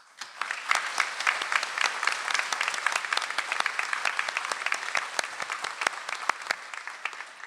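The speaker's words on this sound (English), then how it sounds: "Please join me in applauding the excellent work of our Dean's List students." Audience applause at a Dean's List recognition ceremony, steady dense clapping from a crowd that carries on evenly throughout.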